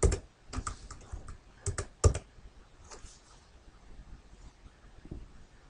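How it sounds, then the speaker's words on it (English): Typing on a computer keyboard in word-processing work: irregular bursts of close, sharp key clicks, heaviest at the start and then thinning out to occasional taps. "let me type in a name"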